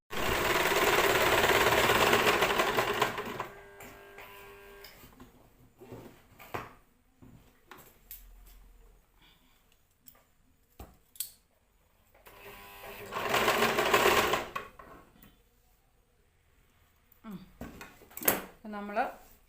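A sewing machine stitches a sleeve in short bursts, with a loud run at the start and another midway, separated by quiet gaps filled with small handling clicks and knocks.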